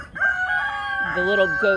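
Chickens cluck close by while a rooster crows loudly, its drawn-out call rising and falling over the softer clucking.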